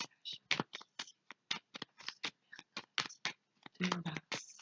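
Oracle cards being shuffled by hand before a reading: a rapid run of crisp, close riffling slaps in quick irregular bursts, steady throughout with no voice over it.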